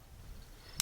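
A single short, crisp click from the trigger resetting on a Glock 20 SF pistol, heard close up near the end against faint background hiss.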